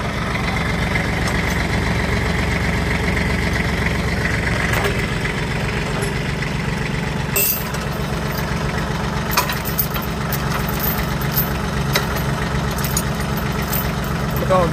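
Tractor engine idling close by, a steady low mechanical chug running throughout with a few clanks and knocks over it.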